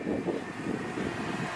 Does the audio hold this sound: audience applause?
no